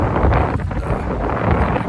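Cold winter wind buffets the microphone on an Outer Banks beach, a steady, loud, broadband rumble with gusty swells throughout and no voices.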